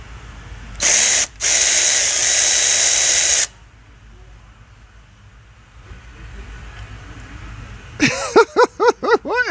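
A power tool, such as a drill or impact gun, removes a seized brake caliper bolt. It gives a loud sustained whir of about three seconds, then a quiet stretch, then a series of rapid rising-and-falling mechanical pulses near the end.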